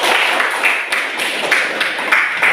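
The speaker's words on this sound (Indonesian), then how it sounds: "tepuk tangan dulu" A classroom of children clapping their hands together, a dense, steady patter of many claps with slight rhythmic accents, close and fairly loud, with no voices over it.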